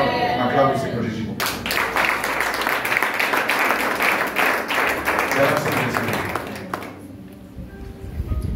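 A church congregation bursts into loud, sustained applause during a service, dense clapping from many hands lasting several seconds before fading, with a voice speaking over it at the start and end.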